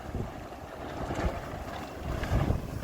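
Night wind blows through the harbour at Varazze as a steady rushing roar with gusts that swell and buffet the microphone, and low rumbling from moored boats, with no voices.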